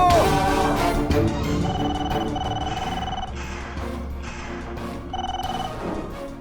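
A telephone rings in a dubbed South Indian action movie, its repeated electronic trill sounding in bursts over a dense, loud background of music and effects.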